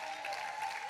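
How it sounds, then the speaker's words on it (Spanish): A congregation applauding at a church service, a brief dense patter of clapping with a faint steady tone running under it. "Ahí es una buena oportunidad para aplaudir."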